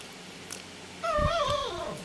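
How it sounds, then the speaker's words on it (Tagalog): A dog makes a noisy, whiny vocalization in a home kitchen where a potato cheese pancake is being made, rising and falling tones lasting about a second, fairly close and clear over quiet room background. "Ang ingay ng aso."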